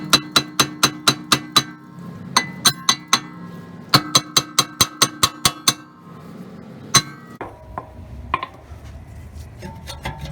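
A hammer strikes a rusted rear disc brake rotor to knock it loose, producing fast bursts of sharp metallic clanks in rapid runs, with pauses between the runs and a few scattered knocks and scrapes at the end.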